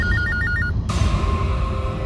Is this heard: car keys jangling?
no